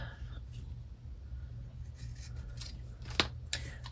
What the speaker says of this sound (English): So I'm going to take this fabric and cut a little strip.